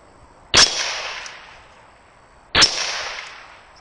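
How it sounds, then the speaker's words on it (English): Two sharp rifle shots ring out about two seconds apart, each a loud close crack followed by a long fading echo, aimed at a fire extinguisher target outdoors. "Let's take a couple shots at that fire extinguisher real quick."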